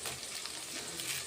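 Curry leaves crackle and sizzle in hot oil in a frying pan while a bone curry is cooked. A brief, soft, steady hiss with no speech.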